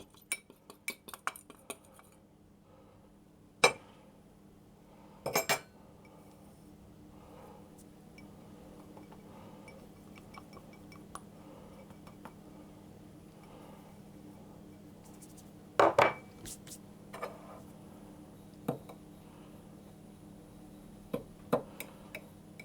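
A spoon stirs cinnamon, brown sugar and corn flour together in a bowl for an apple crisp, giving a few sparse, sharp clinks and scrapes separated by long quiet stretches over a faint hum.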